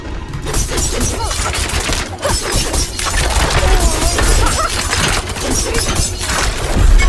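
Rapid Fire poison skill shots from a Rogue in Diablo 4 crack out in a dense, continuous barrage of loud impacts and bursts, mixed with busy game effects and a voice talking over them.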